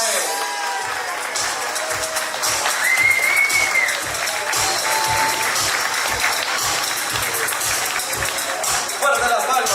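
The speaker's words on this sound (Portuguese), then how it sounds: "Fuerte las palmas para él." A large award-ceremony crowd applauds a winner from Chile, sustained loud clapping with scattered cheers, an announcer's voice heard over it.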